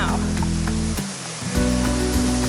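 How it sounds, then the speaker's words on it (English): Main waterfall in the Southern Highlands, a steady loud rushing roar of falling water close by, continuous throughout with a brief dip in intensity partway. "we have found the main waterfall."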